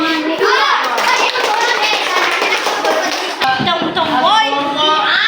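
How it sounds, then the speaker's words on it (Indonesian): Schoolchildren in a classroom clap for a presenting group, steady loud overlapping applause with children's voices and chatter mixed in throughout. "Oke, tepuk tangan untuk kelompok"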